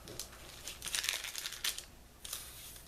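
Parchment paper peels and crinkles away from sticky gingerbread cookie dough in a few soft, close rustling bursts against a quiet background.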